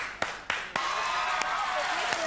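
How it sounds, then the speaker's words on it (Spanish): Studio audience applause welcoming Carla Pugliese on a TV program, a few sharp claps swelling into sustained clapping with a bright ringing tone running underneath. "la recibimos con un aplauso"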